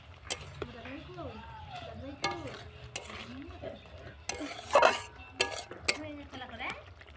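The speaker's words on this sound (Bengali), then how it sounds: "তো এইতে এবার মাছগুলো আমি দিয়ে দিলাম। দিয়ে একটু নেড়ে দিই।" Fish pieces for ruli fish curry get stirred into boiling curry in a pan, with close scraping and clinking of a utensil against the pan in irregular strokes over a low bubbling bed, while a voice talks intermittently.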